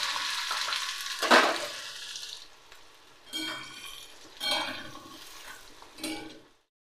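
Boiled potatoes tossed into hot oil with black cumin seeds give bursts of close frying sizzle, with a loud hiss as they go in, then several stirring surges with quieter gaps between.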